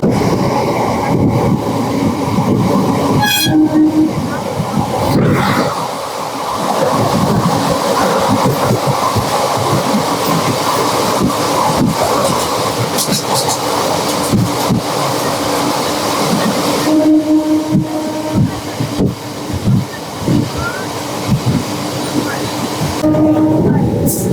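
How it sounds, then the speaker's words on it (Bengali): Barddhaman–Asansol MEMU passenger train pulling out of Panagarh station, a steady loud rolling rumble with wheel clatter and a few short horn blasts standing out over the run. "ট্রেন পানাগড় স্টেশন থেকে ছেড়ে বেরোলো"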